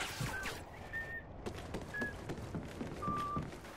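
A person whistles in short, thin, clear phrases, several brief notes scattered over a few seconds, heard over a noisy background with faint thumps.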